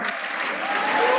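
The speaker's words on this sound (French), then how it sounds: "Applaudissons tous ensemble." Audience applause at a church conference session, a brief burst of steady clapping from a crowd that swells slightly toward the end.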